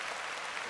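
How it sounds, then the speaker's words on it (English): Short burst of dense crowd applause played as a sound effect on a podcast, loud and even throughout, with no voices over it. "Des, give him some hand claps"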